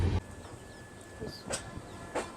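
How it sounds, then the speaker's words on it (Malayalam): A train pulls slowly into Haridwar railway station with a steady low rumble and hiss, broken by a few brief metallic squeals as it moves. "നമ്മളെ ട്രെയിൻ അങ്ങനെ ഹരിദ്വാർ റെയിൽവേ സ്റ്റേഷനിലോട്ട് കയറിക്കൊണ്ടിരിക്കുകയാണ്"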